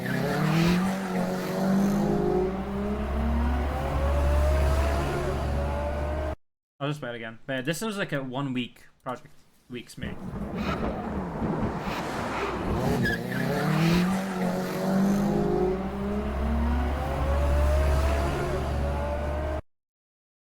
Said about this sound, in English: It's a couple of cars going by.